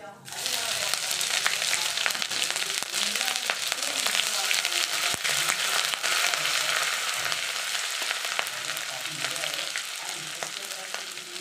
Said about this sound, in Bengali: দিয়ে দিচ্ছি গ্রেট করা আদা।